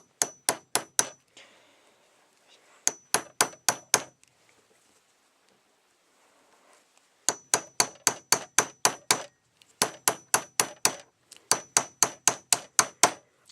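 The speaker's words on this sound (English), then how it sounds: "Use the hammer again." Sharp metallic hammer blows on a Lee Loader capping chamber, seating a wax-lubricated cast bullet into a .303 British case, come in close rapid bursts of four to seven strikes separated by short pauses.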